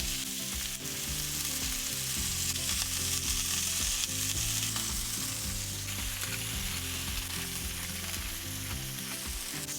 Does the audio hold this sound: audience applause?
no